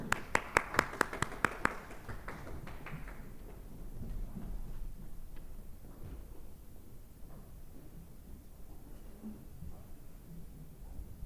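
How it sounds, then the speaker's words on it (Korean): A short burst of sharp claps from the audience welcomes the chair and panelists at the 2022 Seoul National University medical big data research center international symposium, loud for about two seconds and then fading into quiet hall noise. "좌장과 패널리스트 여러분을 큰 박수로 모시겠습니다."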